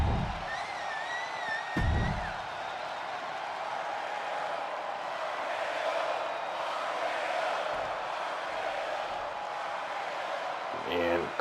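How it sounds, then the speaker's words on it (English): Video game wrestling crowd in WWE 2K23 chanting RKO, a steady broad roar of arena voices sustained throughout with a brief louder burst near the start. "crowd chanting RKOs"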